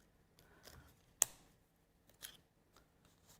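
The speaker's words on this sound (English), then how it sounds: "I'm going to get me little scissors in now. On my pointy scissors." Small pointy craft scissors snip through paper with one sharp, close cut among faint rustling and handling noises in a quiet room.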